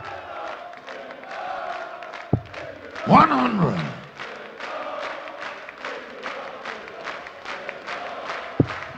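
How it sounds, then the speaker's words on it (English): A darts crowd at the 2017 German Darts Masters cheers and roars in a short loud burst after a throw, then settles into murmuring while a commentator talks over the hall, with a couple of sharp thuds. "Crowd playing their part once again today."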